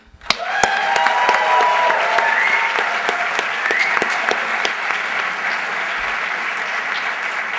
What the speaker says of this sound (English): Let's give another round of applause to our song.